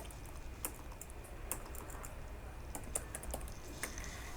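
Typing on a computer keyboard while coding in React, a quiet run of irregular close key clicks with brief pauses between bursts.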